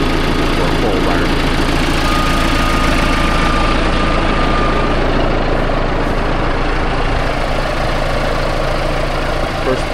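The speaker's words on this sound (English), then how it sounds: "First push, first job with the John Deere" John Deere 450 dozer engine running, a loud, steady, close diesel rumble with a knocking idle that continues unbroken throughout.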